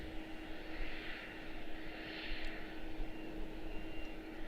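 KLM Boeing 787-9 Dreamliner at Washington Dulles, a distant, fairly faint jet rumble that holds steady with slight swells, no voices over it.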